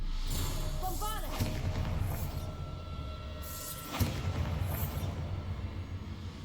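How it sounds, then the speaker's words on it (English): Bombarda explosion spells in Hogwarts Legacy: two deep, booming blasts land a few seconds apart over a continuous game soundscape, with a spoken voice heard early on. "Bombarda!"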